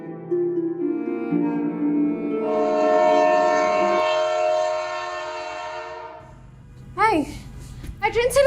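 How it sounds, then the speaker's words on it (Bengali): A train sounds a long, sustained horn as it departs. The tones step and layer loud and close for several seconds, then fade. Voices break in near the end. "ট্রেন ছেড়ে দিতেছে তো, তাড়াতাড়ি আসো।"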